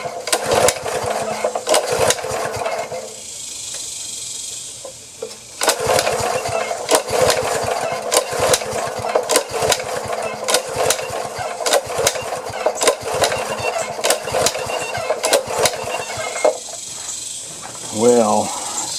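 A Honda tiller engine with a suspected carburetor fault runs loud and uneven, its sputtering and surging continuing through the whole stretch, with a brief drop partway, while a person talks over it.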